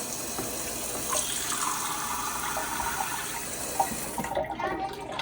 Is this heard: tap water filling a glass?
yes